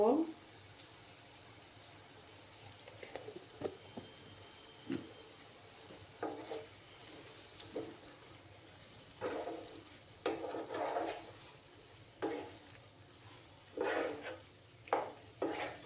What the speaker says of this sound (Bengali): কিছুক্ষণ আমি কষিয়ে নেব